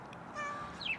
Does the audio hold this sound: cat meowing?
yes